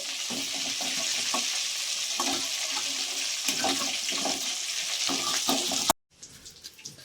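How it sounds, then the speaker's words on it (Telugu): Chicken leg pieces fry in hot oil for biryani, giving a loud, continuous sizzle with crackles and stirring scrapes that cuts off abruptly near the end. "ఇవి విడిగా ఫ్రై చేసుకుంటున్నాను నేను"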